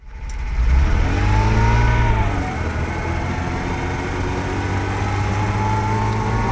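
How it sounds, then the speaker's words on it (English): A restored Ferrari Dino 246 GT pulls away under its own power for the first time, its engine droning and rising in pitch as it accelerates nearby, then holding a steady, continuous note. "this is the first time this car has actually moved under its own power"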